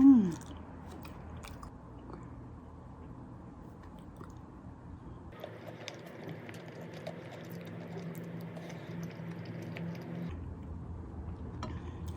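Someone chews food up close while eating, soft wet chewing and crunching sounds repeating steadily over a faint background hum.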